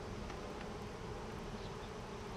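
Honey bees swarm around an opened backyard hive, a steady dense buzzing hum that fills the whole stretch close by with no talk.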